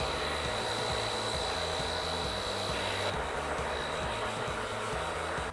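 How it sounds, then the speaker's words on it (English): A steady, loud whirring drone of a hair dryer runs throughout, with a constant high whine over a rumbling low hum. "take the hair dryer, and move your fingers through the hair."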